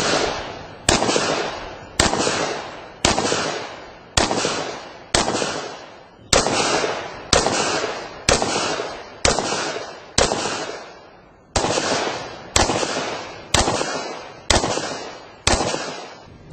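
About fifteen loud, sharp gunshots from a shooter firing in prone and kneeling positions, evenly spaced roughly a second apart with a brief pause midway, each shot followed by a short decaying echo, with no talk.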